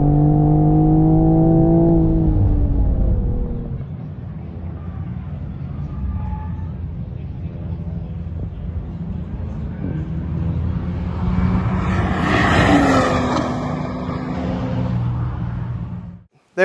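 A Toyota GR Supra Track Edition with a manual gearbox and turbocharged inline-six accelerates on a racetrack, its engine note climbing loudly in pitch, dropping at a shift, then droning steadily and building again near the end.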